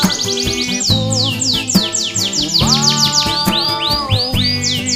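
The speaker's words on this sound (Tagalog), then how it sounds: "Pagkagising mo sa umaga'y maririnig mga ibon" Morning birdsong rendered in a bright, musical way: rapid repeated chirps and tweets sweep across the top while sustained tones and a steady rhythmic backing sit underneath, loud and continuous with no talking.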